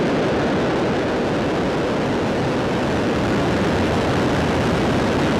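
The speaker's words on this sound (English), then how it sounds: "Ignition. And liftoff of Falcon 9." A SpaceX Falcon 9 lifts off on the Transporter 14 mission with a steady, dense roar, loud and unbroken throughout, with no voices over it.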